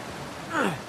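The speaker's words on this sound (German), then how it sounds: "Jetzt sind wir hier wieder beim Wasserfall." A steady rush of water from a waterfall in Uncharted 4, a broad constant wash that briefly swells as a voice speaks over it.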